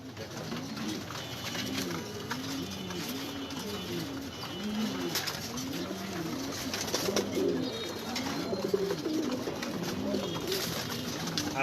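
Pigeons eating grit coo close by in a repeated, rolling rhythm of soft throaty calls, over a steady background hiss.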